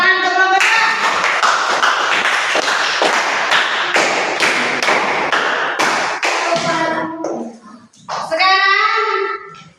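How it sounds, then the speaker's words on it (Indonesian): A burst of group applause, many hands clapping steadily for several seconds, then fading into a few young voices talking. "Tepuk tangan untuk kelompok 2."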